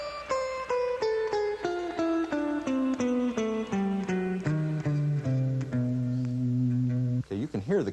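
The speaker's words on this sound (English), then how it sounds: "It's a little melody that descends down the guitar" Solo guitar plays a descending jazz blues turnaround line in the style of rock-to-jazz blues, clear sustained notes stepping steadily downward for about seven seconds, ending in a brief wavering flourish, with no talking.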